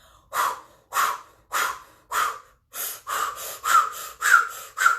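Powerful rhythmic breathing from a Kundalini yoga exercise, driven from the navel and diaphragm: nine forceful, close breaths, four slower evenly spaced ones followed by five quicker pumping ones, with no talk.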